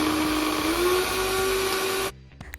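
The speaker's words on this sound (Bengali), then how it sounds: "শুকনো লঙ্কা, কাঁচা লঙ্কা আর রসুন বেটে নেওয়া হচ্ছে।" Dry chillies, green chillies and garlic being ground in an electric kitchen grinder, a loud steady whirring motor that runs for about two seconds and then cuts off abruptly, leaving quiet rattles.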